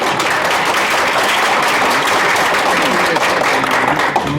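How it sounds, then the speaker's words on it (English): Sustained audience applause for a student panel at a high-tech symposium, a dense, steady wash of many hands clapping at close range throughout, with no talk over it. "can we give them a hand applause?"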